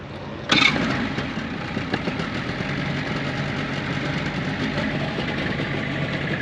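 A boat engine on Lake Bowen, Inman, South Carolina, cranks and catches with a sudden burst, then settles into a steady, rumbling idle that continues evenly throughout.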